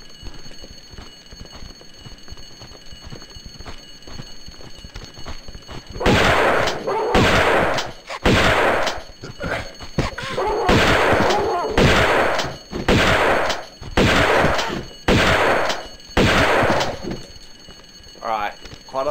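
Rapid gunfire from gun-wielding enemies in Tomb Raider II Remastered, a rhythmic run of about nine loud shots at steady intervals that starts partway in, after a quieter stretch of game ambience.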